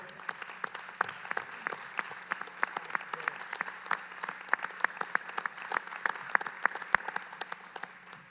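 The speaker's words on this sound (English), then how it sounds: "give them a round of applause because they got us to where we are today" Audience in an auditorium giving a round of applause at a homeowners association meeting, a steady mass of crisp claps from many hands, moderately distant and sustained without speech.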